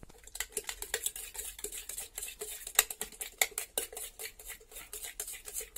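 A spoon briskly mixes ice cream and chocobar candy into juice in a cup, giving a rapid, regular series of close, bright clinks and scrapes with no talking.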